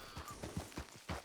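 Horse hooves clip-clopping in the game Red Dead Redemption 2, a mare being ridden at a steady walk with about five evenly spaced, muffled thuds, fairly close and without talk.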